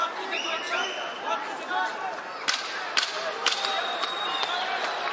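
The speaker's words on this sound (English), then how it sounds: "There's the 10-second clapper." Sharp wooden clapper strikes, several quick cracks in a row, warning of ten seconds left in a UFC bout between Umar Nurmagomedov and Cory Sandhagen, heard over crowd noise and commentary talk.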